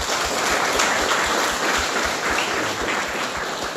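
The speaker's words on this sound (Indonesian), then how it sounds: "kita beri tepuk tangan" Steady applause from a university classroom audience, a continuous wash of clapping at moderate volume with no talk over it.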